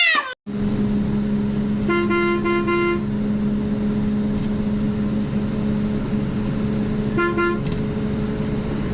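Two bursts of car horn honking over a steady engine rumble, the first lasting about a second, the second shorter and later.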